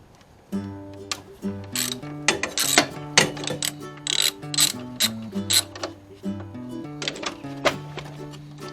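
A ratchet wrench loosens a 10mm bolt on a car dashboard, giving a series of close, crisp clicking strokes in uneven bursts with short pauses, no talking.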